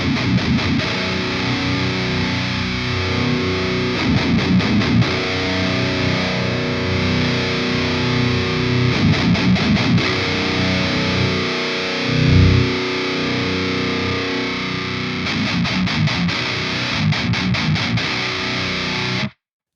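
Heavily distorted electric guitar through a free ENGL amp model in Neural Amp Modeler, loud chugging palm-muted riffs alternating with sustained crunchy chords, no talking.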